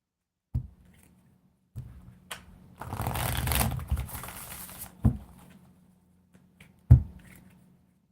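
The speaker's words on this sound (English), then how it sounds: "I wanted to shuffle the deck really good" A deck of cards being shuffled during a tarot-style reading, with a long riffling burst in the middle bracketed by sharp taps and snaps of the cards, close and fairly quiet.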